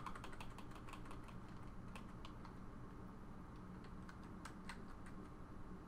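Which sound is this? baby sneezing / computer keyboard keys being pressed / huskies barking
computer keyboard keys being pressed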